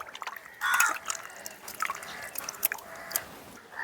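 Peeled potatoes are washed in water, giving quiet, scattered splashes and drips with soft sloshing in irregular bursts, close by and fairly faint.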